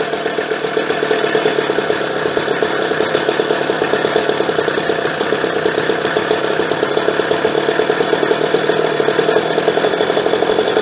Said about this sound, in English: now she starts, but she doesn't sound real good idling